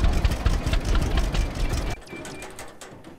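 A tractor engine in the video game Farmer's Dynasty chugs at a steady idle with a rapid knocking rhythm, then drops abruptly to a quieter, muffled hum.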